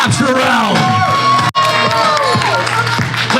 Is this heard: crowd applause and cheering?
yes